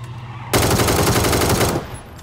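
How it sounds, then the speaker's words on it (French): A single sustained burst of rapid automatic gunfire, just over a second long, is fired at a vehicle in a video game during the ZLAN 2024 tournament. The burst is loud and close, with quieter game ambience before and after. "Bichard a vu que le véhicule fumait, du coup il lui a tiré dessus en se mettant en deuxième position"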